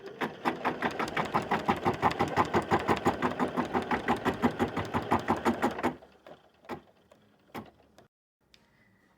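An embroidery machine stitching fabric in a fast, even run of sharp needle strikes for about six seconds, then stopping, followed by a few scattered clicks and knocks in near silence.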